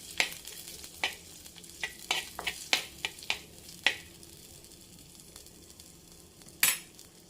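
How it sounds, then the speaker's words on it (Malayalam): Ginger, garlic and green chilli sizzle in a pan for a fish curry while a spoon scrapes and clinks against the metal in scattered strokes; the soft frying hiss runs underneath, with one sharper clatter near the end. "വെളുത്തുള്ളി, പച്ചമുളക് ഇത്ര ഇട്ട് കൊടുത്തു. ഇനി ഒന്ന് ഇളക്കി കൊടുക്കാം."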